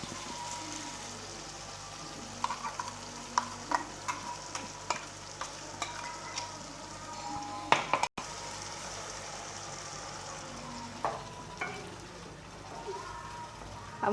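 Masala ground in a mixer fries with jackfruit vegetable in a pan, giving a soft, continuous frying hiss broken by repeated clicks and scrapes of a spoon stirring, fairly quiet and close.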